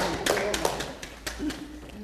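Applause from an audience at a talk, with a few sharp claps standing out over a steady patter of hands, fairly close and moderately loud.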